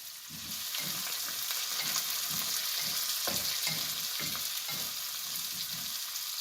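Salt and asafoetida sautéing in a hot pan, a continuous close sizzle with rhythmic scraping strokes of a spatula repeating roughly every half second.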